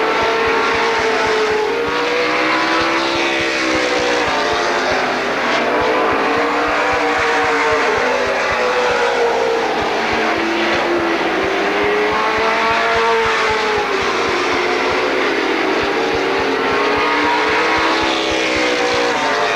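NASCAR Weekly Racing Series stock cars circle the Lorain County Speedway oval, their loud engines droning continuously with rising and falling pitch as they pass, several cars overlapping at close range.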